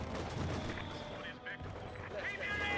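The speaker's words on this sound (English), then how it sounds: "Mortar pit very good at smoking because it has that creeping smoke barrage" Mortar pit in Company of Heroes 2 lays down a creeping smoke barrage, dense rumbling artillery blasts rolling together in a continuous loud wash while a voice talks over the battle.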